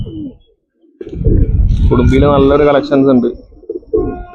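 Pigeons coo in soft, rolling bursts close by while someone talks over them.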